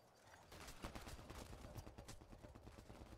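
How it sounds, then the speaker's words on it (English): Assault rifle gunfire in the video game Mass Effect Andromeda, rapid bursts of shots in quick succession over a low rumbling backdrop, fairly faint and steady across the stretch. "Eat my assault rifle"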